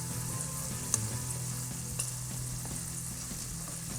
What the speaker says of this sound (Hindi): तो हम मटरों को फ्राई कर रहे हैं।